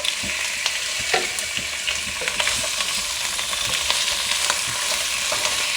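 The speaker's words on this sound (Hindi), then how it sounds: "ये हमारी प्याज लाइट ब्राउन हो गई है। हम ये इसमें गोश्त डाल देंगे।" Meat hisses and crackles in a pan of light-browned onions while a spoon stirs and scrapes through it, giving a loud, continuous close-up sizzle with small clinks and no talking.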